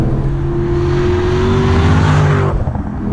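A 2007 Cadillac CTS-V sedan with a GM LS2 V8 on the Sigma chassis, heard from the cabin while driving: a loud, steady engine drone that holds for about two and a half seconds, then drops off as the throttle eases.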